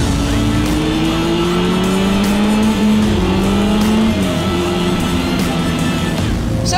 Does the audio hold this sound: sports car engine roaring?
yes